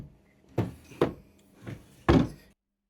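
Drawers in a basic hotel room wardrobe being pulled open and pushed shut, four separate wooden thuds and slides spaced irregularly, close and fairly quiet in a still room.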